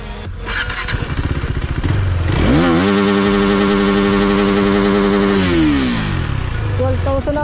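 A KTM Duke 390 motorcycle revs up hard and loudly, its rising whine holding steady at the rev limiter near 12,000 RPM before dropping back down. Rapid cut-off stutters are heard, with a voice talking faintly underneath.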